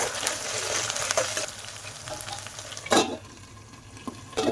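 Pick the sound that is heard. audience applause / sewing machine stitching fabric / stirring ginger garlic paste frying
stirring ginger garlic paste frying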